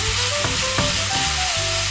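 A tortilla cooks in a pan over a medium flame, giving a steady close sizzle with brief scraping touches and no speech.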